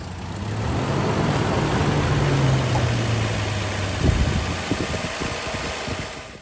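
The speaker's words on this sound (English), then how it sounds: "we have to wait till the engine gets up to operating temperature" A Toyota FZJ80 Land Cruiser engine idles at steady, moderate loudness, warming toward operating temperature, with a few faint clicks and knocks near the end.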